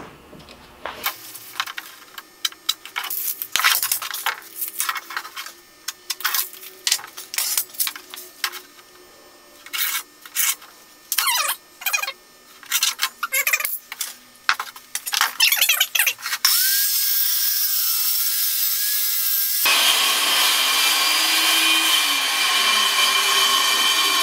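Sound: saw cutting end off wooden board

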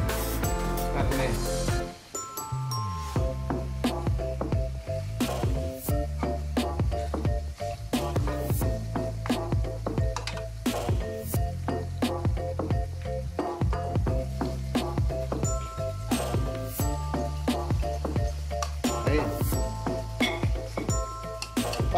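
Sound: pork steak frying in a pan on low heat

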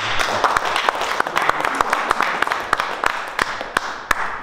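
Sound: audience applause at a meetup

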